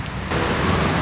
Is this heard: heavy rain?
yes